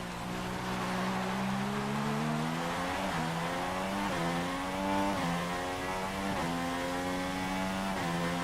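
A Red Bull Formula 1 car in the F1 2016 racing game, racing on a wet track, with its engine whining steadily through rising and falling gear changes, loud and continuous with no talk.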